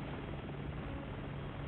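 A helicopter's rotor in the video game Resident Evil 6 drones steadily at moderate volume, a continuous low whirring thrum with no voices.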